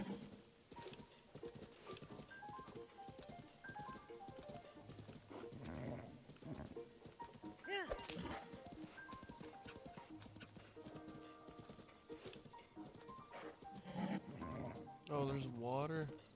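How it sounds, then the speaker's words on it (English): Horse hooves clip-clop at a gallop in Zelda: Tears of the Kingdom, a steady rhythmic beat under game music and effects, with someone talking over it. "I would fast travel there, but I don't want to leave my horse out here."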